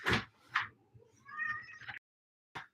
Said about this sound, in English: I got a cat crying outside my door